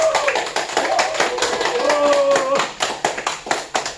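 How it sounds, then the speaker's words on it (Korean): A classroom group claps hands together to close an English lesson, a dense run of sharp claps carried across the whole span with excited voices and whoops rising over it in the middle. "박수로 마치겠습니다."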